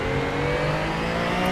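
A Porsche Supercup race car on track at Fuji Speedway roars steadily with a loud, close engine drone, its tone holding as it heads into the first turn.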